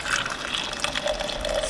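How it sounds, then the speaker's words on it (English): Coffee poured at a camp in the Alaskan wilderness, a steady liquid stream running continuously and close for the whole moment, with no talk over it. "Ceremonial pouring of the coffee."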